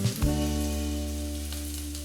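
Crushed onion and chili hit hot oil in a pan for a Kerala jackfruit seed stir-fry, giving a sudden burst of sizzling that settles into a steady, close frying hiss over a low hum.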